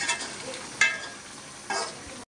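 Chicken for dopiaza frying in a pan, stirred with a spatula in three brief scraping strokes over a low, steady sizzle, close and quiet.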